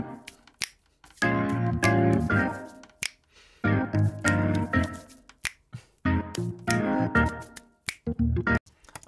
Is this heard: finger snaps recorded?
yes